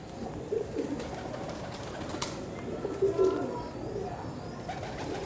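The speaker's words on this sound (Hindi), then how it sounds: "ये मेरे सलारे टैडी कबूतर हैं।" Teddy pigeons coo in soft, repeated low throaty calls close by, with faint chirps and light background noise between them.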